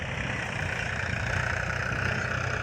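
A tractor engine idles steadily on a farm where a thresher is working, a continuous low, rumbling drone with a constant level throughout, close by and alone without talk.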